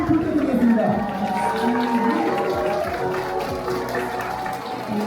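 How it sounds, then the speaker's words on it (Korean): Crowd applause and cheering for a bride at a wedding, steady and fairly loud across the whole stretch, with voices and chatter mixed in and a busy, reverberant hall feel. "신부님께 뜨거운 박수 한번"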